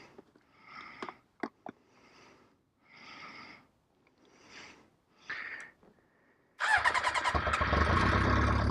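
A motorcycle's faint starter clicks and sputters give way to the engine catching and settling into a loud, steady running rumble close by.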